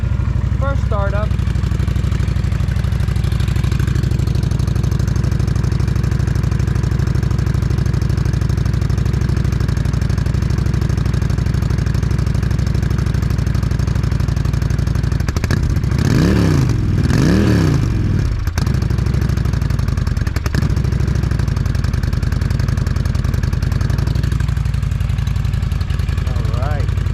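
A brand-new Honda Shadow 750 with zero miles rumbles in a steady, close idle for the whole stretch, with a brief rise in revs midway and a person talking over it.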